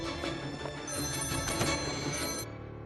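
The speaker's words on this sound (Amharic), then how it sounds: "ስልክሽን አንሺ።" A telephone rings in a dramatic scene, a steady electronic ringtone with repeating tones lasting a couple of seconds and then cutting off, alone and fairly faint without speech.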